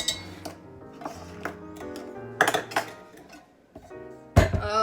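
Banana bread muffin batter gets mixed in a bowl, heard as irregular close clinks and knocks of a utensil against the bowl with soft scraping between, fairly quiet and without talk.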